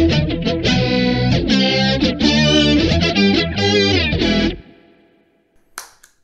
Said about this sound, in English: But you could even put some distortion through it